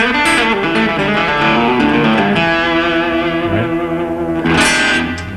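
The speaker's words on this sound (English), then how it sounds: "That's using all the notes of the blues scale right there, from the open A, right, up to the B." An electric guitar with distortion and reverb plays a blues-scale phrase rising from open A up to B, then settling back toward E; sustained bent notes ring out loud and close, with a brief pick attack near the end and no voices.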